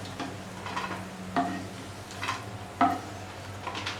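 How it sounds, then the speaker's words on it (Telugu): Almonds and cashews fry gently in hot ghee in a pan with a soft, steady sizzle, broken by a few sharp clinks of a spatula stirring against the metal. The sound is fairly quiet, with no talking. "నెయ్యి హీట్ ఎక్కాక బాదం అలాగే జీడిపప్పు వీటిని దోరగా వేయించుకోవాలి"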